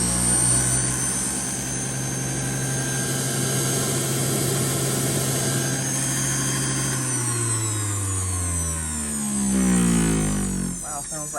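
A Silvercrest juicer extractor from Lidl runs its motor at speed one, a loud, steady whining drone with a humming undertone that holds, then shifts and wavers in pitch toward the end.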